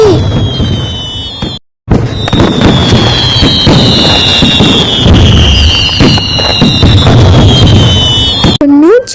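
Diwali fireworks and firecrackers in a cartoon forest celebration, a dense, loud barrage of crackling bursts and whistling rockets running almost without pause, broken by one brief silent gap.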